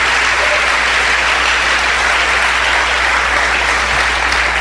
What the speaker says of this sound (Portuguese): Não, para aplaudir, aplauda direito, dando a glória ao Senhor